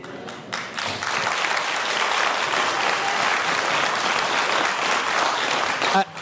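A crowd breaks into loud, sustained applause at a city council meeting in Richmond, Virginia, filling the room for several seconds before tapering off at the end.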